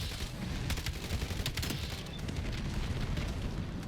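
Rapid bursts of AK rifle fire in a Call of Duty multiplayer match, sharp repeated cracks over a dense rumbling background of game noise, steady and fairly loud throughout.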